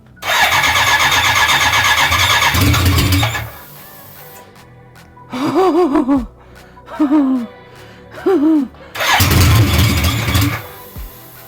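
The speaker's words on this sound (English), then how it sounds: "Oh my lord, that's running." A 1983 BMW K100 motorcycle engine cranks and runs loudly, cuts out, then short excited voices break in before the engine roars back up nearby.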